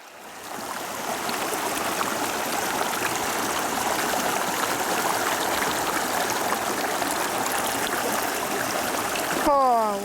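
A river flows steadily at a gold prospecting site among large boulders, a continuous broad rushing stream of water, close and fairly loud throughout, with a brief whistling sweep at the very end.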